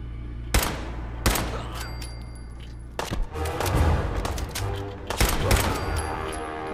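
Gunfire in the video game Fallout 4: several sharp, loud shots ring out at irregular intervals, followed by bursts of rapid fire and thuds over a steady low background hum.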